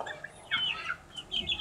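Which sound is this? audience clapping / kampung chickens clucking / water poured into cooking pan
kampung chickens clucking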